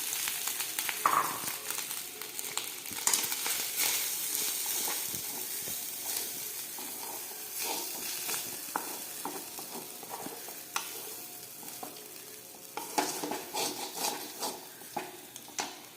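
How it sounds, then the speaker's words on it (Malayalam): Chicken frying in a pan for shawarma sizzles steadily and close up, with stirring scrapes and occasional louder crackles rising over a constant hiss. "ഇനി നമ്മൾ ചിക്കൻ ഇതിലിടുന്നു കേട്ടോ"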